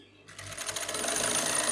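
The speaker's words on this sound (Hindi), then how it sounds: "और फिर सिलाई लगा रही हूँ।" A sewing machine stitches the hem of a kurti, starting from silence into a rapid, even mechanical whir of needle strokes, close and steady for over a second.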